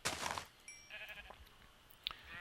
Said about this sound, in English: That time I got a baby black sheep.